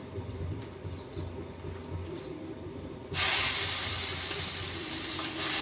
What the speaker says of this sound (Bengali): এবার তেলটা গরম হয়ে গেলে এটা মানে নুন হলুদ দেওয়া আছে চিংড়ি মাছে আমি এবারে চিংড়ি মাছটা ছেড়ে দেবো